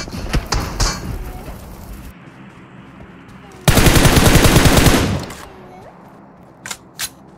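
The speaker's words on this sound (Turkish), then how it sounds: "Nereden sıkıyorlar anlamadım" Gunfire in the PUBG Mobile video game: scattered shots give way to one loud, sustained burst of automatic fire, followed by a few distant single cracks.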